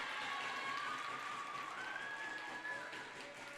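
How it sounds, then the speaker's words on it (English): Student cheering section at a high school girls' volleyball match between Lady Kahoks and Althoff, a steady distant crowd roar with scattered clapping and cheering in a gym, with a faint whistle-like tone drifting over it. "Student body cheering section here in full force."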